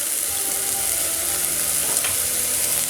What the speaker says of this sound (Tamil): இப்போ நம்ம எடுத்து வச்சுருக்கிற பூண்டையும் இதோடு சேர்த்துடலாம்.